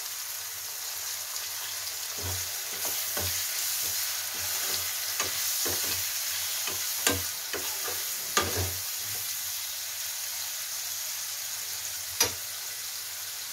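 Chopped tomatoes with salt sizzling and frying in a pan for a matar paneer curry, a steady soft hiss with occasional clicks and scrapes of a spoon stirring, close by and fairly quiet.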